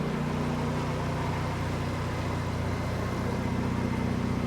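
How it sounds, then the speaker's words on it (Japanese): A Mazda RX-7 FD3S Type-R sports car idles steadily and evenly nearby, a constant engine drone with no talk over it. "まあアイドリングも安定してるしい"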